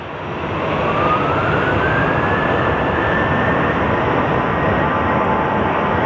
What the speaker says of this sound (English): here comes our Jojo the Grizzly livery Frontier